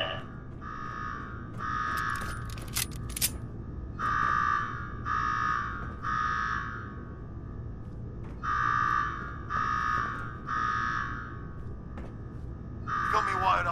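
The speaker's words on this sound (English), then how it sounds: "Now go shut off that damn alarm." An alarm in the video game Fallout 4, Nuka-World, blares in repeated bursts of three electronic tones with short gaps between the groups, over a low background rumble.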